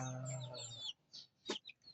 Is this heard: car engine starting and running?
no